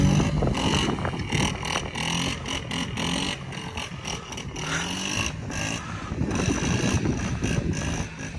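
Yamaha Raptor 80 ATV with shaft drive revving hard during circle wheelies on flat ground, a loud, buzzing small engine rising and falling in pitch, close by and steady throughout.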